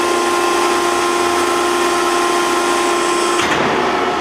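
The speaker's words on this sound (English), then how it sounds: "Push and hold the retract button, generates hydraulic pressure to retract the cylinder." Hydraulic cylinder on a Maren Engineering Model 72 closed-end baler retracting, a loud steady mechanical whine with a constant tonal hum that cuts off sharply near the end.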